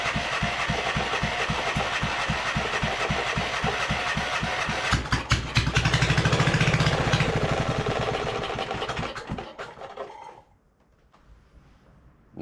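A trashed Kawasaki V-twin engine on a pressure washer frame, running with no exhaust, fires up and hammers loudly with a rapid, steady pulse, rises in a brief rev, then cuts out into near silence.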